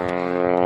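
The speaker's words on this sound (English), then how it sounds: "Listen to that plane go." A propeller airplane's engine drones loud and steady in a brief, continuous burst as it takes off, with no voices.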